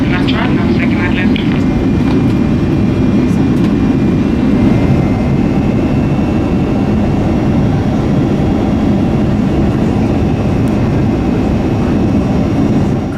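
Steady loud cabin roar of an Ethiopian Airlines Dreamliner jet cruising at altitude, a dense continuous rumble with no breaks, with a faint voice briefly near the start.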